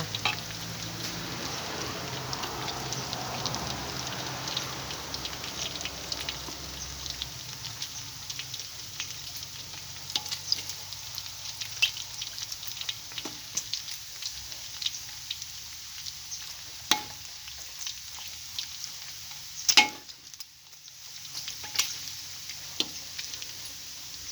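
Pork fat fries in oil for crackling, giving a continuous soft sizzle with scattered pops and crackles. The frying is fairly quiet and close and fades slightly as it goes on, with a few louder clinks near the end.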